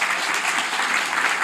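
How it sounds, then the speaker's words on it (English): Dense audience applause at a political forum on war powers in Eugene, a steady wash of many hands clapping at even loudness throughout, with no talk over it. "could I get an applause?"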